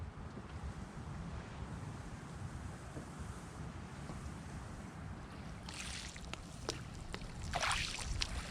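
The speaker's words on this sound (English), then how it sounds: "you can hear the wind behind us" Wind gusts on a secluded island, a constant low rumble of wind buffeting the microphone, with bursts of brighter noise near the end.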